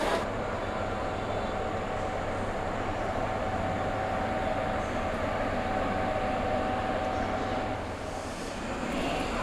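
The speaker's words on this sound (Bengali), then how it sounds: "ট্রেন দিয়ে দিয়েছে আমাদের গাড়ি 2 নম্বর প্ল্যাটফর্মে" The 18039 Puri Express stands at platform 2 of Shalimar station, giving off a steady, moderately loud rumbling drone of railway noise with a faint high tone running through it.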